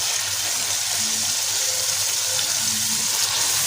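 Onion and tomato masala frying in oil in a pot after half a glass of water was added: a steady close sizzle and hiss with no break, and no voices.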